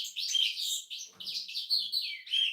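A small bird chirps in a quick series of bright, close tweets, several short calls in a row with tiny pauses between them, with only faint background noise underneath.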